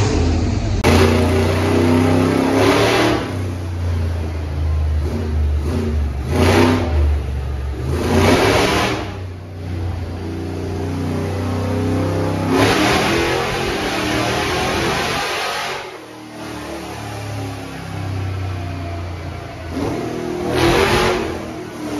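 A trophy truck engine being troubleshot fires up and revs repeatedly in loud, close bursts that rise and fall over a constant high whine, with brief dips back toward idle between pulls.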